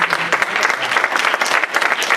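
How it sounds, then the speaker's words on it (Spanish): A church congregation breaks into lively, dense applause, many hands clapping together in an indoor room, loud and sustained throughout. "Den un aplauso al Señor."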